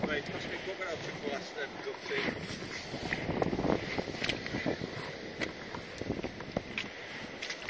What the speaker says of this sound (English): you're probably not picking any of this up because of the wind